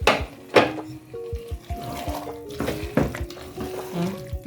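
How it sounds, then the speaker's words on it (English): A little water poured into a pot of Ghanaian okra fish stew, with short splashing bursts and clinks of pans and utensils over a few seconds, heard close up. "I'm gonna add in just a little bit of this water."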